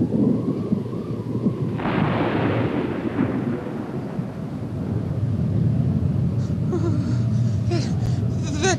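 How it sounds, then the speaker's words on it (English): A storm outside sends rolling thunder through the scene, a deep sustained rumble with a sharper crack near the start that fades into a continuing low growl, fairly close and loud beneath faint background sounds. "Does the thunder and lightning scare you?"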